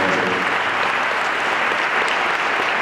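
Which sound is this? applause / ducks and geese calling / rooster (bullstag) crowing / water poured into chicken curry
applause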